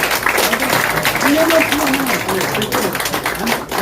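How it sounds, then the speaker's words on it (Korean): Audience applause at a political meeting with a candidate, a dense, steady wash of clapping that holds loud for several seconds, with voices mixed in underneath. "큰 박수 부탁드리겠습니다"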